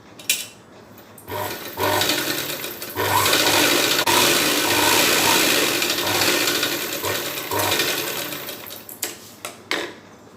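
A sewing machine stitching pieces of saree petticoat fabric, whirring in steady runs with a fast mechanical clatter, pausing and restarting, with soft handling clicks at the start and end.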